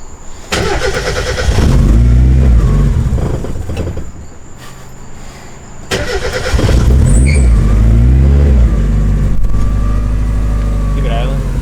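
A turbocharged car engine with a destroyed turbo manifold roars loudly near the microphone, then drops back to a rougher idle, then revs hard again.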